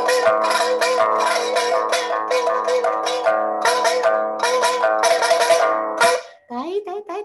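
A pipa is strummed hard in rapid, rhythmic bursts, mimicking a clanging Chinese percussion ensemble, with a short voice near the end.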